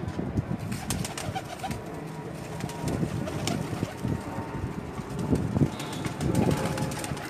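A flock of teddy pigeons coos softly and continuously against a breezy outdoor background, with no single call standing out.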